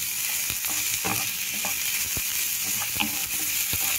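Sautéed mung beans with beef being stirred in a pan, a steady close sizzle broken by repeated scraping and clacking strokes of the spoon about every half second.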